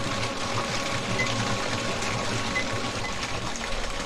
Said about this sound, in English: very loud splashing noise for such a small amount of liquid coming out